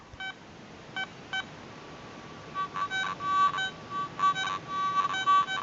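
A Garrett ATX metal detector gives its low grunting tone over an iron target, heard as a few short electronic beeps early on, then a busier run of harsh, buzzy tone bursts, fairly quiet and with no voices.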